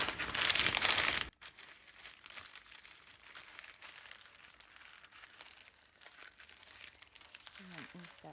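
Newspaper is crumpled in a loud burst of crinkling at the start, followed by quieter intermittent rustling and folding of the paper while a person talks.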